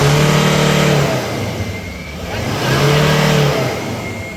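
Ford Endeavour 2018 diesel engine with a noise problem and black smoke revs loudly twice, each rise swelling into a droning roar before dropping back, close up with no talk.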